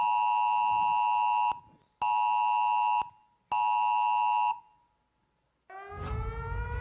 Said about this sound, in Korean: 기상청에서 주민들에게 지진 발생 긴급 재난 문자를 발송하였습니다